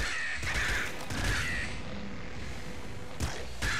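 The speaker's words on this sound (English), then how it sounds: "There was another crow." Crows caw repeatedly in the video game Nuclear Throne, a few harsh calls set against a steady wash of game noise and effects.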